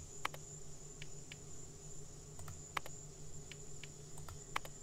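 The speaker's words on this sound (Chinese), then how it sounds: "我觉得那个虫鸣鸟叫声会不会太大声啊" Insect chirping ambience with a steady high buzz and faint repeated ticks in a pixel-style farming and village teacher simulation game, quiet and continuous, with no talk.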